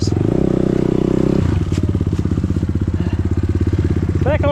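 An enduro motorcycle engine idles with a steady rapid throb, then revs up into a louder, faster pulsing note while riding in the rain, close and dominant, with a brief voice near the end.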